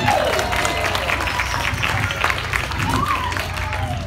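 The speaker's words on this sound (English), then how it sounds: "clap your hands" A crowd claps along at a science magic show at an ostrich festival. The applause is steady and sustained across the moment, with a presenter's voice and whoops over it.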